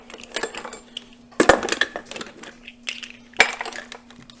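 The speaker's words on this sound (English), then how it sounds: "I'm just going to put the lids on all of these" Lids being put on glass jars of home-brewed kombucha, with scattered clinks and clicks, sharper knocks around the middle and near the end, close and fairly quiet over a steady hum.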